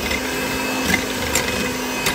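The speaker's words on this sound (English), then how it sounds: "we're gonna beat those with a mixer on high for 5 minutes" An electric mixer runs on high, beating three eggs for a pumpkin cake roll, giving a steady, close motor whir throughout with a few faint clicks and no talking.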